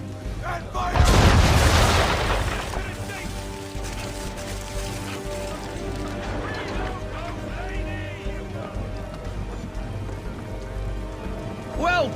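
Ship guns in a naval video game fire with a loud, sudden boom that rolls into a long, fading rumble, followed by a lingering wash of noise.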